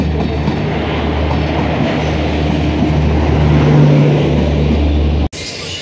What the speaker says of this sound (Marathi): इली रे इली कोकण कन्या इली